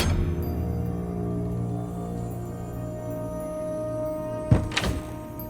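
A barred door being unbarred in the video game Avowed, a heavy wooden thunk and a brief clatter near the end over a steady low droning game ambience, with no speech.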